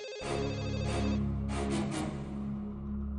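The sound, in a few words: telephone ringing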